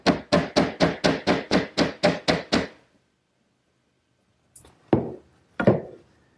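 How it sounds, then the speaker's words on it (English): A wooden peg is tapped into a glued mortise in a mesquite bookcase: ten quick, evenly spaced close knocks, then a pause and three scattered single taps. "And then we set the peg in position and tap it in."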